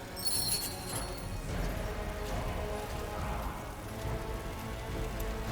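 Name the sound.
rain in the video game SpellForce 3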